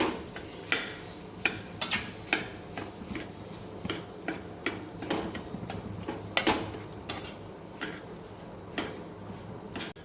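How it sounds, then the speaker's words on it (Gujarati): Mawa (khoa) being stirred and sautéed in a pan for Holi gujiya filling, with a spoon scraping and clicking against the pan at an irregular rhythm over a faint sizzle. "હવે માવાને પણ મિક્સ સાંતળવાનો છે."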